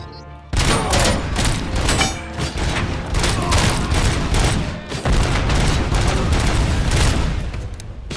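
Rapid gunfire from a gun in RoboCop: Rogue City, loud and close, as a dense stream of shots that runs almost nonstop for several seconds after a sudden start, with a brief gap midway.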